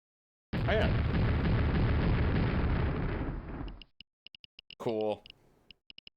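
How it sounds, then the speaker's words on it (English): A huge nuclear reactor explosion in the game Quake, a loud roaring blast sustained for several seconds before fading, followed by scattered short ticks and a brief rising synthetic burst. "I don't think you could make a bigger explosion than that"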